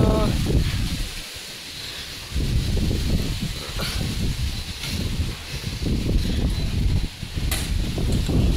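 Strong wind gusts through lush potted plants, the leaves rustling against a rough roaring rumble. Gusts rise and ease over several seconds, close and loud, while a person talks.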